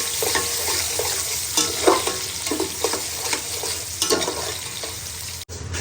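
Polao rice is tipped into a hot pot and stirred, crackling and sizzling close by, with repeated scraping strokes of the spoon, then a brief drop near the end.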